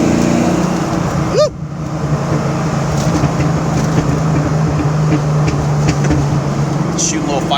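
A 1988 Ford Mustang GT engine and exhaust rumble with a loud, steady low drone and a brief rising rev, accompanied by people talking over the noise throughout.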